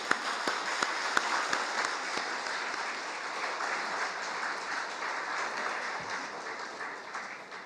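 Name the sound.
congregation applause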